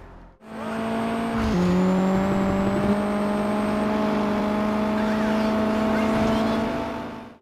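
A race car engine in Juiced 2 on the PSP drones at a steady high pitch and shifts to a new gear partway through, loud and close, holding a sustained hum to the end.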